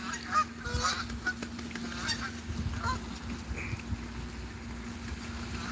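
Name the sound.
Canada geese honking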